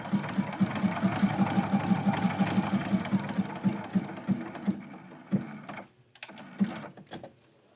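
A sewing machine runs a zigzag stitch along the bottom edge of quilted Christmas candy-cane pieces, its rapid needle beats ticking steadily for about five seconds before slowing into a few scattered, separate stitches.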